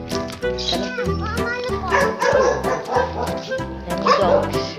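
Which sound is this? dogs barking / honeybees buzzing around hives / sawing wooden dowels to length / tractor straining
dogs barking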